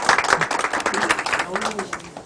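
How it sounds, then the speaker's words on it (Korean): An audience at a sales lecture breaks into brisk, scattered applause that runs under continuous talking for the whole short stretch. "박수 한번 부탁드릴게요"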